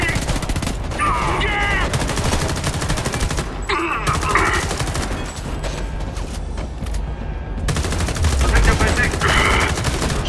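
Sustained gunfire and bursts of automatic weapons fire in the shooter game Homefront The Revolution, dense and continuous across the whole stretch with heavy low-end rumble, some brief mechanical clatter mixed in.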